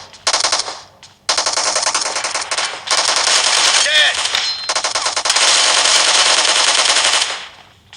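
Rapid automatic gunfire from a mobile shooting game played on a realme 8s 5G phone, loud sustained bursts with brief gaps and metallic clinks, while someone talks excitedly over the action.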